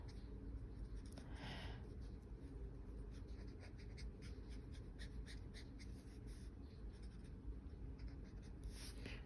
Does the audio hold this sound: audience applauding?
no